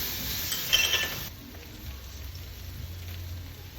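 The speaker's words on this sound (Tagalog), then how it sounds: "kahit umuulan" Rain falls steadily in the morning, a soft broadband hiss that is fuller for the first second and then settles into a lower, even patter.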